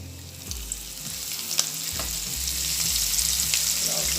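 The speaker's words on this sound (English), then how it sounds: "it's just nice sizzling because the oil is really hot" Steady, bright sizzling of fish frying in very hot oil in a pot, a continuous hiss with small crackles and pops throughout, close and fairly loud, without splashing.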